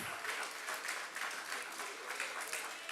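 Applause from attendees at the Jamaica Civil Service Association annual general meeting, a faint, even round of clapping that carries on throughout without speech.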